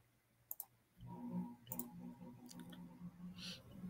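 Computer mouse clicks at a desk, a few sharp quiet ticks over a faint low hum, with soft handling sounds in between.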